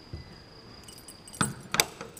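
Keys jangle briefly on a ring, two short close metallic clinks and rattles over quiet background hiss while checking a 1969 Plymouth Barracuda's locks.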